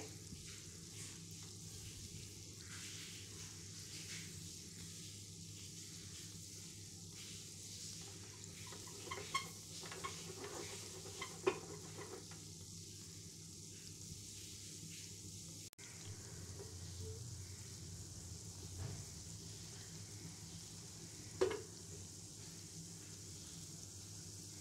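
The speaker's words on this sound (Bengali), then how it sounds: "চুলোর আঁচটা আমি লোতে রেখে এখন মিষ্টিগুলো ভেজে নিচ্ছি" Powdered-milk kalojam sweets fry gently in a pan of oil on low heat, making a quiet, steady bubbling hiss with a few soft clicks and knocks from the pan.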